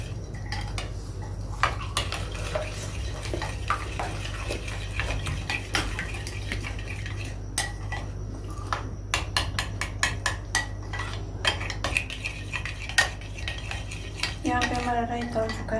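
A spoon clinks and scrapes steadily against a bowl while raita is stirred, a close run of metallic taps with no talking.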